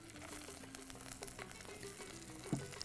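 Cinnamon, cardamom, cloves, coriander and onions sauté in a pan with a steady, close crackling sizzle throughout, a low background hum underneath, and a brief louder clink or stir near the end.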